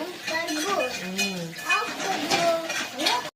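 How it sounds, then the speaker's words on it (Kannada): Rice flour dough for kadubu being mixed by hand in a metal bowl, giving continuous scraping and soft clinking for a few seconds, close and steady, with no talk. "ಹಿಟ್ಟನ್ನ ಈ ತರ ಕಲ್ಸ್ಕೋಬೇಕು ನೋಡಿ."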